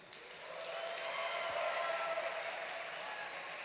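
Faint, steady applause from an audience at an Elite Academy event in Denver, heard as a distant wash of clapping that swells slightly and holds without any clear speech.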